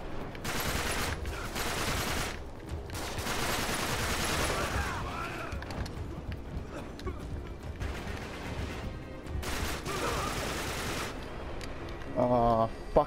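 Gunfire in the video game Uncharted 3: dense, sustained bursts of shooting and bullet impacts that run almost without pause through the stretch, loud and busy throughout, with a short sharper burst near the end.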